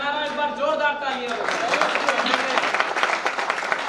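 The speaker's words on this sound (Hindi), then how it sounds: "एक बार जोरदार तालियां" Loud audience applause breaks out at a kavi sammelan (Hindi poetry gathering) in Bareilly, following a raised voice calling out, then a dense, sustained wash of clapping.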